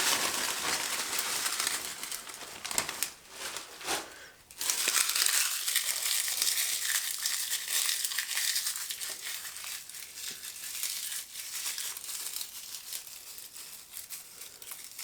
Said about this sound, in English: Sometimes I crush it all up, sometimes I leave like a few whole leaves in there.